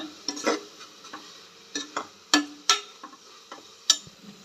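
Ground coriander powder, red chilli powder and a little turmeric fry in a pan with scattered crackling ticks and small pops over a quiet background, close by and moderately loud, with no talk.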